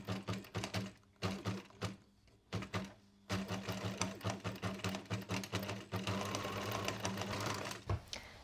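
Sewing machine stitching a seam down a summer linen dress, its rapid needle chatter running in short stop-start bursts and then a steadier continuous run, close and quiet with no talking.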